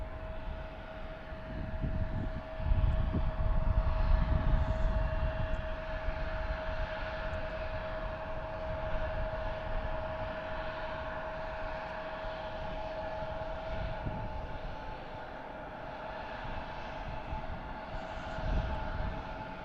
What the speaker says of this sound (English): Check out United again, taxiing to the terminal.